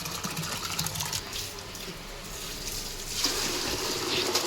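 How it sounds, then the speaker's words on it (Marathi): Water is poured out for a German Shepherd in hot weather, a soft close splashing and trickling that swells louder near the end, with faint background noise. "पाणी टाकू दे आधी"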